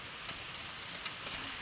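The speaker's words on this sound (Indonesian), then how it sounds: "Kita tinggal aja di saung seperti ini sambil menunggu hujan reda" Steady rain falls during the rainy season near a shelter by chili and eggplant plants, a soft even hiss of drops with no voices.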